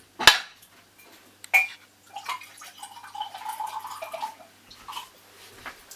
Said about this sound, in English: I'm going to drain off the liquid, so we're just left with the fruit.